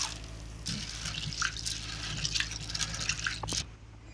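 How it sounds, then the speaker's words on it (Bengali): Chana dal (split chickpeas) being rinsed in water at a home kitchen sink, with steady splashing, trickling and dripping throughout that cuts off near the end; no voices. "এবার আমি ডালটা ভালো করে ধুয়ে নেব।"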